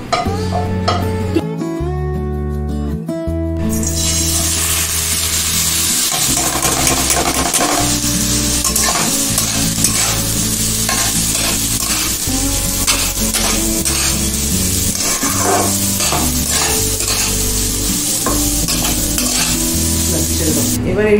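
Food frying hot in a pan gives a dense, constant sizzle with stirring scrapes, heard up close beneath steady tonal background music.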